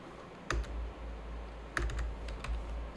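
Quiet typing on a computer keyboard, two short bursts of rapid key clicks over a low background hum.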